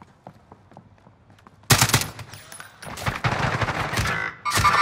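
Rapid bursts of video game gunfire erupt after a quiet stretch, loud and dense with a final sharp burst at the end, while players shout and talk over it.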